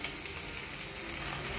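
Small chicken pieces for chicken pakodi dropped into hot oil in a kadai, giving a steady, dense sizzle of frying throughout at moderate level, with no voices.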